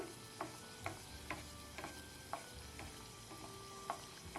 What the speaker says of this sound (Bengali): এর উপরে গরম তেলটা প্রেস করে করে দিতে হবে তাহলে কিন্তু এর লেয়ারগুলো খুব ভালোভাবে খুলে যাবে